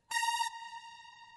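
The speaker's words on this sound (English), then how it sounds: "a sawtooth sound that everybody gets on the start of the first synth" A single bright, buzzy synth note sounds with a sharp attack, then fades into a lingering reverberant tail.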